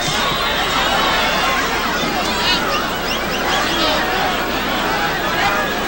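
Large boxing arena crowd of more than 50,000 people in South Africa, a steady dense roar of chatter and babble filling the space continuously without pauses.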